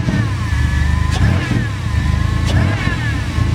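A Chevy Astro van engine with a freshly replaced throttle body revs up loud and close, a steady mid-pitched drone rising and easing back with each press of the gas across the whole stretch.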